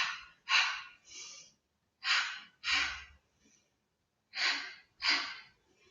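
Sharp nasal percussion breaths during a Pilates leg exercise, seven short forceful exhalations in paired bursts with silent gaps between, close and clear with no talk.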